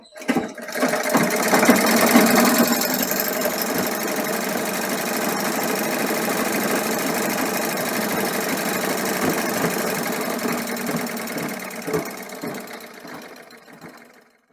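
Sewing machine motor running steadily while winding a bobbin with the foot pedal pressed, a loud continuous whirring hum that holds for most of the stretch before winding down near the end.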